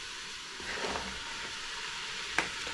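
Carrots and potatoes are stirred into browning meat and onions for a Japanese curry, giving a steady close hiss and sizzle with a faint utensil clink near the end.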